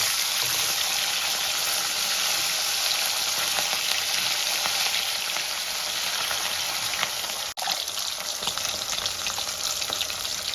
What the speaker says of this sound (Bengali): মাছগুলো আমি উল্টে দেবো, এরকম হালকা লাল করে আমি ভেজে দেবো।